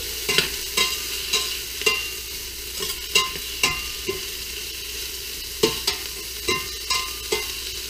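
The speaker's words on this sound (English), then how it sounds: "And we're just gonna saute this up." Onions and bacon sautéing in a pan for corn chowder: a soft, steady sizzle broken by regular clicks and scrapes of a spoon stirring, close and moderately quiet.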